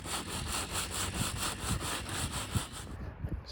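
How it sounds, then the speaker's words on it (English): Sandpaper rubs by hand over an old varnished board from a 60-year-old fiberglass boat, close and steady, in repeated back-and-forth strokes with a gritty scratching rhythm, no talk. "I'm going to start by sanding this down with some sandpaper"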